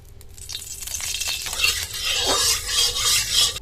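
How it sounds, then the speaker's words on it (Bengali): Oil goes into a hot kadai while a lentil and greens fritter mixture waits, and a rising fry and hiss builds with scraping, stirring noises close by. "কড়া বসিয়ে দিয়েছি, গরম হয়ে গেছে, তেল দিয়ে দেবো"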